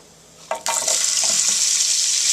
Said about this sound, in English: Let the butter like cook in the pan a little bit